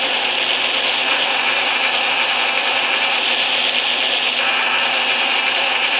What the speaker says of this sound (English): Now you can hear it engage.